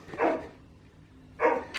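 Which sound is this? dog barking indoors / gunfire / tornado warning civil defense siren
dog barking indoors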